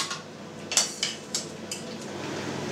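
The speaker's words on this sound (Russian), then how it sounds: "пересыпаем наш суп в чашу блендера" Cooked blue cheese cream soup is spooned from a pot into a blender bowl, giving several light metallic clinks and scrapes of a utensil against cookware, quiet and close, with no talking.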